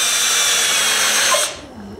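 A power drill spinning a disc used to clean sanding belts whines steadily at high speed close by, then cuts off abruptly and winds down to a fading hum.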